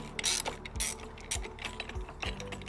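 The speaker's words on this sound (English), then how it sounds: "a threaded rod to basically be able to push out the bushing and press in the new bushing" Threaded rod tool clicking as it presses a transfer case bushing out of a BMW G01 X3, with repeated ratchet-like clicks and low mechanical clunks at a steady, close, fairly quiet rhythm.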